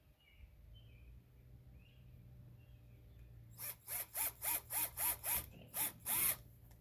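A small low-torque power drill boring a hole for a Yakattack Levorlock anchor trolley, heard as about nine short, loud revving bursts in a steady rhythm after several seconds of quiet room hum.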